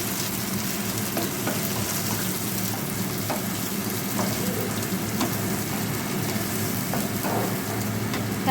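Tomato paste hits ghee-fried red onions in a pan, giving a steady, crackling sizzle with stirring clatter close by, the frying noise continuous throughout.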